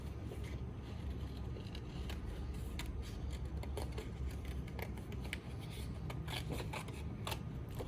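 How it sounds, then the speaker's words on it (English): Scissors cutting out a paper camera image for an easel card: faint, repeated crisp snips and paper rustling over a steady low background hum, close and quiet. "So we'll cut out this camera."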